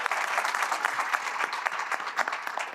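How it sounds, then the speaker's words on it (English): Warm, steady applause from a room full of guests at a legislative breakfast on Black maternal health, dense and continuous clapping at moderate loudness with no talking. "please give a big round of applause for Ebony K."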